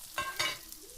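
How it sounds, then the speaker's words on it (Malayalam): Mustard and fenugreek seeds fry in hot coconut oil, giving a soft sizzle with two quick crackling bursts close by, brief and without talk. "വെളിച്ചെണ്ണ ഒഴിച്ച് കൊടുക്കുന്നുണ്ട്. കടുകും ഉലുവി ഇട്ട് കൊടുക്കുന്നുണ്ട്."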